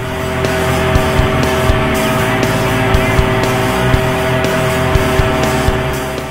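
A leaf blower blasts leaves in a yard toward the woods, a loud steady engine roar with a sustained tone running unbroken and close throughout, no talk.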